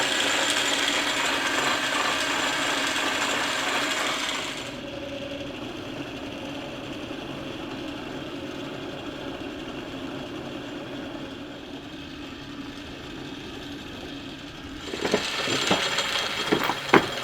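A metal lathe cuts an undercut at the end of a thread, giving a steady close whirring and grinding hum that drops to a quieter run midway, then picks up with scraping bursts near the end.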